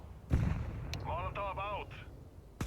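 A grenade blast in a shooter video game bursts loudly near the start, with a second sharp burst at the very end and voices speaking in between.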